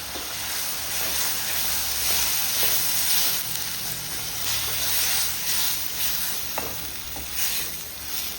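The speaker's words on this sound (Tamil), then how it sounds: "வெங்காயம் தக்காளி நல்லா வதக்கிடுது." Onions and tomatoes sizzle and crackle in a hot pan while cooking a quail pepper fry, a steady frying hiss with occasional stirring scrapes, close and fairly loud.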